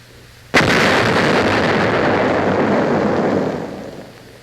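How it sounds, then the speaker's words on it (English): A charge of 100 pounds of TNT blows up a captured wartime blockhouse in one sudden, loud blast, then a long rumbling roar that slowly fades over several seconds. "men of an engineer combat battalion apply 100 pounds of TNT to a captured blockhouse"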